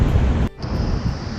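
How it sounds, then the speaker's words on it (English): Ocean surf washes in a steady broadband rush, mixed with wind buffeting the microphone, broken by a brief dip before the wash resumes. "I love the sound of the waves"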